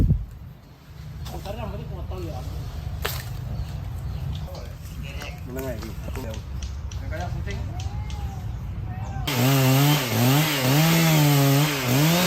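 A big chainsaw cuts a tall, massive tree in a residential garden, its engine buzzing and revving in waves throughout, then roaring loud and close near the end, with voices talking over it.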